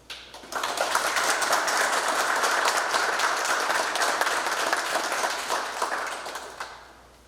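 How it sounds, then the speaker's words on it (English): Audience applause at a military change of command ceremony, a full, dense round of clapping that swells quickly, holds steady for several seconds, then tapers off near the end. "Please join me in a round of applause for our current and former district employees."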